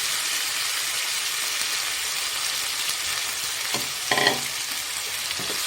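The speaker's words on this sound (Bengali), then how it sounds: "এবারে ডুমুর আর আলুটা একটু ভেজে নেব" Continuous loud hiss of figs and potatoes frying in oil, with a few scraping stirs of a utensil toward the end; no talking.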